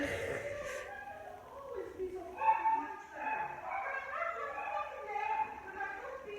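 Somewhere in the background, a blind, diabetic dog gives soft, faint barks and yips, partly buried under close, continuous indoor talk.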